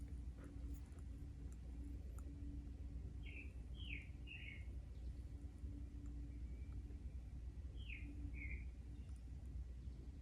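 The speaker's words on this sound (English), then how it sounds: "You guys hear the birds?" A few short bird chirps ring out in two small clusters, faint and distant over a steady low hum of traffic or engine noise.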